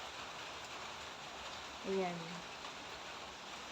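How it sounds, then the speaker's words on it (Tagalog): Steady rain falling outside a house, a constant soft hiss heard from indoors with a brief spoken word partway through. "Umuulan na talaga."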